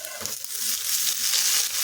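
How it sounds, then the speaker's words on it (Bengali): Onions and whole onion leaves frying together in a pan over a high flame, a steady close hiss and crackle with faint stirring scrapes underneath. "এখন পাতাগুলো পেঁয়াজের সাথে ভেজে নিতে হবে।"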